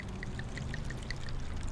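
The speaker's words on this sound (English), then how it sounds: "All right, we'll pour the red." Red wine is poured into a glass in a soft, continuous trickling stream at low volume, with faint gurgles and no talk.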